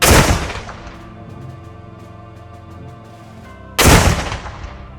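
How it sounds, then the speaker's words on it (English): Ceremonial cannon blasts fired at Camp Perry during a national rifle match memorial: a loud close boom opens, rumbling reverberation decays for several seconds, then a second booming blast hits near the end, with no talking. "consecutive cannon blasts were fired in honor of 2 incredible individuals lost in 2026"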